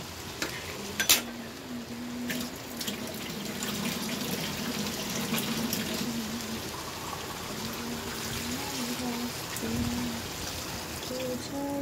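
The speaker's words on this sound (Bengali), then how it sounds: "এবারে সামান্য একটু জল দেব" Water is poured into a pan of simmering chicken curry, making a soft, steady trickling and bubbling with a faint clink near the start.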